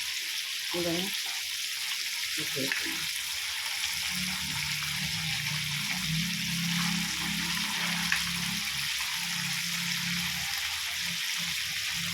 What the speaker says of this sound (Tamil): மீன் வறுக்கிறது ஒரு பக்கம் வெந்துருச்சு